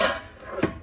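A cooking pot of rice is handled in a home kitchen, giving a couple of brief, close metallic clinks and knocks with quiet gaps between them.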